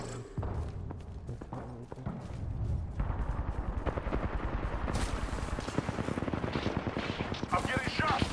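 Gunfire in the video game Apex Legends during a close firefight. Rapid machine-gun bursts rattle loud and near after a few sparser shots, with voices talking in the mix.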